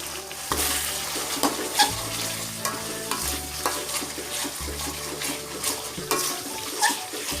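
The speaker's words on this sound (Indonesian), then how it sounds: "daun jeruk masuk semua. Kita tumis dulu sebentar." Lime leaves, bay leaves and pepper sautéing with rendang spices in a pan, a steady close frying sizzle with repeated stirring scrapes and light utensil knocks throughout, no talking.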